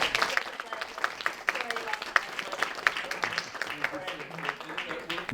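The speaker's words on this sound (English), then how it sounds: "Round of applause." Audience applause follows a talk on Portuguese workers in Lowell, a dense patter of hand claps with faint voices mixed in throughout.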